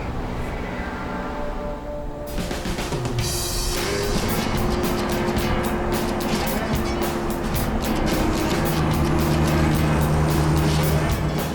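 An old truck engine runs steadily on a hot outback road in Western Australia, a loud continuous drone and rattle with a change in pitch a few seconds in, close and without pause throughout.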